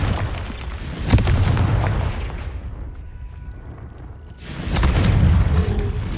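A Confringo fire spell blasts in Hogwarts Legacy: a loud, booming burst near the start, a quieter rumbling lull, then a second heavy roaring blast toward the end.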